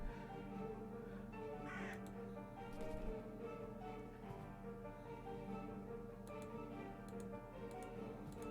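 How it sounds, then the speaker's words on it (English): Crows cawing in a dark, eerie point-and-click horror game, faint harsh calls repeating over a low droning ambient score with a steady ticking rhythm. "All of these crows just showed up."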